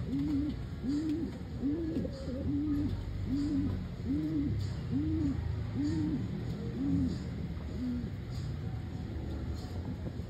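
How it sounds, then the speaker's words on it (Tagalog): A pigeon coos repeatedly in a steady rhythm, about ten soft rounded calls, over a constant background hum. "mga ibon natin"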